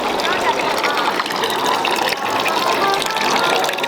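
Water runs steadily from a public drinking fountain on a Serbian street at night, a continuous dense gush heard up close while people talk over it.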